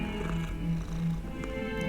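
A cat in the video game Hogwarts Legacy purrs while being petted, a steady, continuous low rumble held close throughout, with no voices over it.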